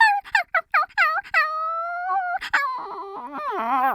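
A voice imitates a dog, giving a quick series of yapping barks followed by drawn-out whining howls and wavering yelps, close to a condenser microphone.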